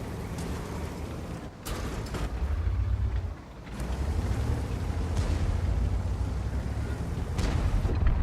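A German Tier X heavy tank, the Panzer 7 in World of Tanks, fires its main gun on the move, with a few sharp booms over a steady low engine and track rumble.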